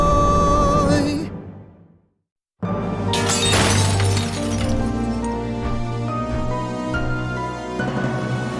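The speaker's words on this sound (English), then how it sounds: "The glass just started shattering, the windows all came down." Glass windows shattering as a cartoon sound effect: a loud bright crash that fades out, a brief silence, then a second burst of breaking glass with tinkling shards settling under a sustained musical tone.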